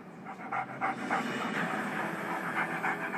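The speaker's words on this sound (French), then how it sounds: "Mon père va rencontrer un grand Danois." Great Dane panting steadily and fairly close, a rhythmic run of quick breathy pulses with no talking.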